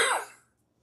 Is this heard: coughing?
yes